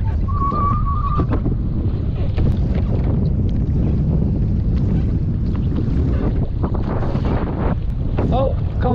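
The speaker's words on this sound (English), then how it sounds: "And we're fighting the wind now." Wind gusting hard across a boat while fishing on San Francisco Bay, a constant loud rushing buffet on the microphone, with a short beep and a voice speaking over it.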